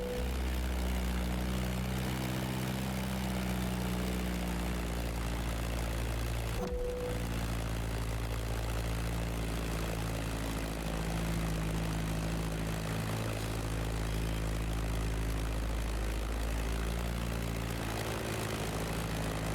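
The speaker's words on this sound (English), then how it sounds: "That Beechcraft Stagger Wing is truly a beautiful piece, isn't it?" Steady droning roar of a Beechcraft Staggerwing propeller biplane's engine flying in the racing game The Crew Motorfest, loud and continuous with a brief whoosh partway through.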